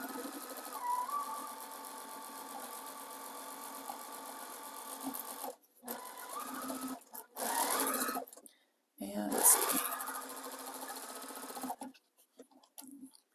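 A sewing machine stitches a raw-edge appliqué baby quilt in long runs of fast, even whirring, broken by several short pauses and brief restarts near the end.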